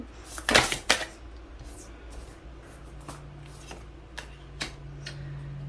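Oversized tarot cards that are too wide to shuffle easily give a brief papery riffle and flutter near the start, then faint card slides and light taps over a quiet room tone.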